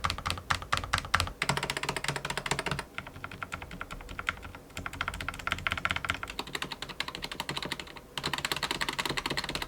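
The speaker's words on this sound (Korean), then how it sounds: "제가 준비한 키보드는 기존 체리 저소음 적축 스위치에서 스프링이 튜닝된 35g의 타건압을 가진 스위치라" Rapid, steady typing on an mStone Groove T fully lubricated mechanical keyboard with silent red switches and 35g springs, soft muted keystrokes in quick continuous bursts with a couple of brief pauses, no voices.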